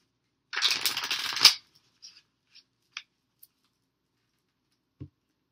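A brief, close riffle of tarot cards, then scattered light taps and clicks as the deck is handled in near silence.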